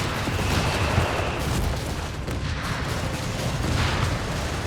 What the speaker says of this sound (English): rocket strike almost takes out the entire commander squad